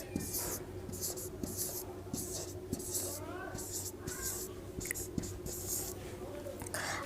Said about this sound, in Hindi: मैं यहाँ पे 1 2 लिख देती हूँ